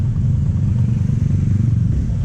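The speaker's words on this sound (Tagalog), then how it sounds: "Yan yung motor namin guys." A motorcycle engine, one of a pair of small Yamaha-type bikes (Sniper and L-Max) parked at a roadside stop, idles in a steady low rumble close by, without voices.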